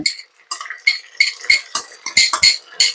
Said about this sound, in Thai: เราก็ผัดกะปิให้เขาสุกแล้วก็หอมเลยค่ะ